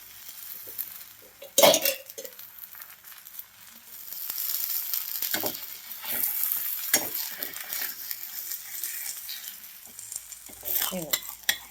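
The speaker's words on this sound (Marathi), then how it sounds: "दोन्हीकडून असं खरपूस भाजून घ्यायचं आहे आपल्याला थालीपीठ." Thalipeeth, a Maharashtrian mixed-flour flatbread, frying in a little oil in a pan, a soft ongoing sizzle broken by occasional clinks and scrapes of a spatula and pan.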